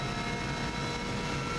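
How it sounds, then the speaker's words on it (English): Helicopter flying over the Isle of Man TT course, heard from a racing vehicle as a steady, loud broadband roar and rotor drone filling the whole clip with no talk. "Always see the helicopter at this point, you can see it on there on the right."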